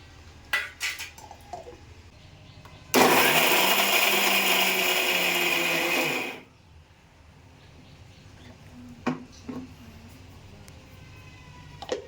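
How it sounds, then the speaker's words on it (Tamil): A mixer grinder whirs loudly for about three seconds grinding coconut to a light powder, then spins down, surrounded by clinks and taps of kitchen utensils before and after. "மிக்சி ஜாரில் போட்டு லைட்டாக பவுடர் மாதிரி அரைச்சிட்டு வந்துடலாம்"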